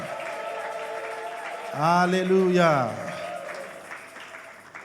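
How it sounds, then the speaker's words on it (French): A church congregation applauds and cheers in praise during a service, a steady wash of clapping and crowd noise. One voice rises above it with a loud, drawn-out sung shout. "Avec des cris de joie, des grandes acclamations pour ovationner le Seigneur."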